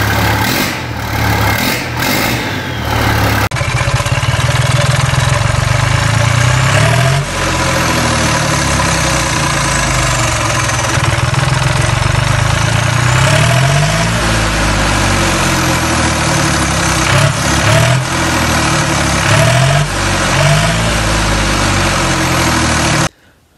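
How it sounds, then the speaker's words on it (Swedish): Tractor engines cold start and settle into a loud, heavy idle, with a clattering, throbbing low rumble that carries on steadily for over twenty seconds, broken by a couple of restarts and revs. "Och så har vi lite kallstarter såklart."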